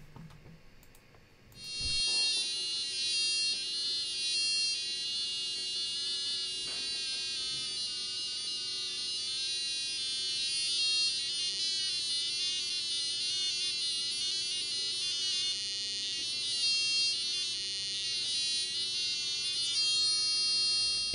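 After a brief quiet start, a piercing Arduino-driven electronic buzzer sounds continuously, its high tones shifting in pitch throughout, loud and steady with nothing else over it.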